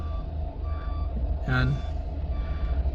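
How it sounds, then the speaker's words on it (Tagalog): A pump truck at a flooded worksite with no drainage gives one short burst of reversing beeps midway, over a steady low engine drone, while people talk nearby. "nagdala kami ng pump truck na yan"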